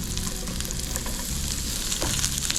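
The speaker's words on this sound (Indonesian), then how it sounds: "Kalau sudah agak layu baru kita masukkan bawang putihnya." Garlic frying in margarine in a pan for crispy chicken steak, a dense, steady, close sizzle across the whole span with slight stirring texture and no talking.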